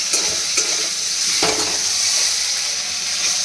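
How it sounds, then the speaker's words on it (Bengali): Potatoes sizzle steadily in a hot pan at home while a utensil stirs them in several distinct scraping strokes, close and continuous, with no talking. "এখানে আলুটা ভাজছি"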